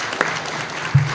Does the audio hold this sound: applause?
yes